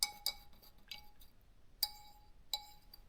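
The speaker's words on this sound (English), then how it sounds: "I'm going to give that a good stir. I'm just using a wooden skewer here, and you give it a good stir like this." Wooden skewer clinking against a glass container while stirring homemade mosquito oil: five or six sharp, bright clinks at irregular intervals, close and fairly quiet, with no talking.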